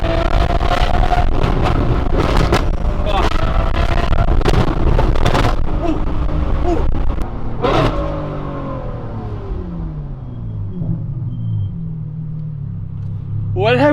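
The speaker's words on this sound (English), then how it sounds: "This is the loudest exhaust I have ever heard." A Ferrari 812 fitted with a Ryft exhaust revs hard and loud up close, a violent roaring engine with sharp crackling pops through the first half, then settling into a lower rumbling idle with rising and falling pitch.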